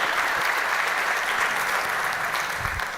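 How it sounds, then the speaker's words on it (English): Sustained audience applause for Gary Hall, Jr. at a climate panel event, a dense, even clapping that stays loud throughout and tapers slightly at the end. "Please give a round of applause for Gary Hall, Jr."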